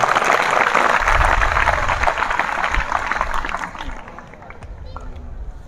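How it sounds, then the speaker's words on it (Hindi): Schoolchildren at a government senior secondary school event celebrating Chandrayaan-3 clap loudly and steadily for the ISRO scientists, with crowd voices mixed in, before the applause thins and fades. "इन सभी वैज्ञानिकों के लिए एक बार पुनः जोरदार ताली।"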